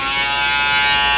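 A PMD Personal Microderm skin device runs with its suction on, giving a steady, loud, close electric buzz with a fine whine that holds without change for about a second, no voices.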